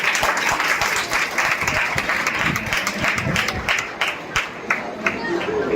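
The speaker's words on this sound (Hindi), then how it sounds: "ताली भैया।" Sustained applause from students at a school youth parliament competition in Kolkata, a dense crowd of clapping hands that carries on steadily throughout.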